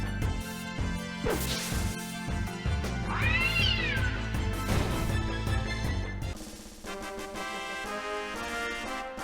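A cat-like enemy in Final Fantasy 9 meows loudly over game music, with rising and falling cries in the middle, then the music carries on alone.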